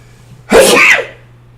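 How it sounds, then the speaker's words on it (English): A single loud sneeze, sharp and close, bursting out abruptly and fading within about half a second, with a faint steady hum underneath and no talking. "I start sneezing today."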